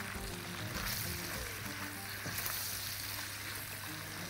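A pan of pasta with tomatoes, oil, hot green chili and breaded chicken gives off a soft, steady sizzle while being stirred, faint and continuous with no talking.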